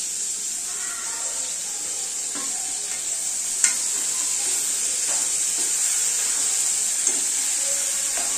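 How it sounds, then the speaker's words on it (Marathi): Finely chopped tomatoes sizzle in a hot pan for a spicy sprouted moth bean curry, a bright, continuous frying hiss close up with occasional clinks of stirring and no talking. "आता यामध्ये मी बारीक चिरलेले टोमॅटो घालते."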